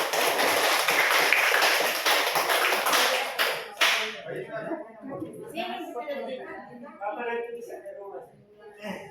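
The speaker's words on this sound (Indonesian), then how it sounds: "Terima kasih dan tepuk tangan untuk kita semua." Audience applause at a learning-innovation gathering, a few seconds of brisk clapping from a small group that stops abruptly, then someone speaks.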